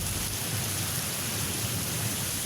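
Thunderstorm with strong winds and heavy rain in Beijing: a dense, steady roar of rain and wind fills the whole stretch, with no distinct thunderclap standing out.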